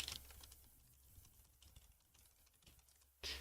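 Quiet clicking of computer keyboard keys during a livestream, a soft irregular patter of keystrokes, faint and close, ending in a louder thump.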